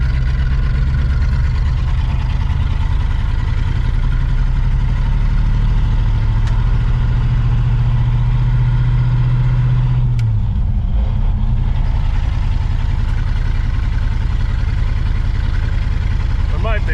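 A 1970 Pontiac Grand Prix with a four-speed manual drives uphill, its engine droning loud and steady inside the cabin, with a brief dip and change in pitch partway through as it shifts down from third to second.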